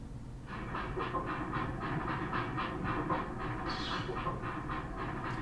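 A train moves in the video game Breath of Fire 3, giving a steady rumbling drone with an evenly spaced clickety-clack beat throughout and a brief hissy burst midway.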